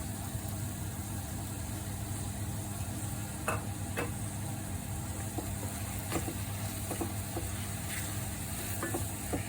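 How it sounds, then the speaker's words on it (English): Cooked spicy mushrooms for a masala curry are mixed around in a pan: a low continuous sizzle and hum broken by a few soft spatula scrapes and clicks. "I'm just going to give them a little mix around and add some coriander"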